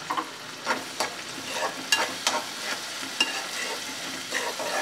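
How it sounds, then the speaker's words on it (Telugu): Dried prawns with turmeric fry in a pan with a steady close sizzle, broken by repeated scraping strokes of a spatula stirring them; no one speaks. "కాసేపు వేగనిస్తాను."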